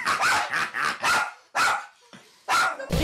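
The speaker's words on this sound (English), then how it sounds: "What are you barking at?" A dog barks repeatedly at a piece of dog-themed art indoors, a run of loud, close barks in quick bursts with short pauses between them.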